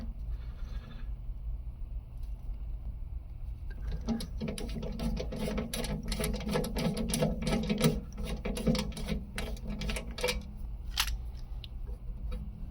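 A Hardell Threadsert rivet nut installation tool setting a threaded insert, heard up close as a dense run of metallic clicks and ratcheting taps from about four seconds on, over a low steady background hum, with no voices.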